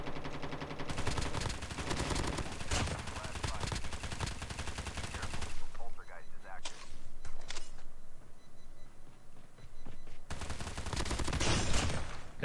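Gunfire in the mobile shooter COD Mobile battle royale, dense bursts of automatic fire for several seconds, a brief lull with scattered single shots, then another heavy burst, with players talking faintly underneath.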